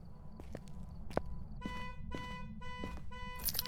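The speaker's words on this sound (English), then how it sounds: "We also need to turn that damn car alarm off." Car alarm in the video game Phasmophobia, sounding as a series of repeating pulsed electronic bursts over a low background rumble, with footstep-like thumps before it starts.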